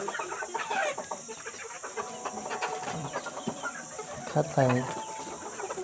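Village free-range chickens cluck busily while pecking at discarded farm tomatoes, several hens close by with a rooster-like call near the end, under someone talking briefly.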